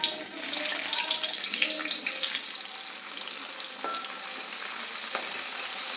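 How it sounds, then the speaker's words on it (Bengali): Pointed gourd (parwal) frying in a pan gives a soft, continuous hissing sizzle with faint stirring, moderately quiet and steady throughout. "বন্ধুরা, প্রথমেই বসিয়ে দিলাম কাঁকরোল ভাজা।"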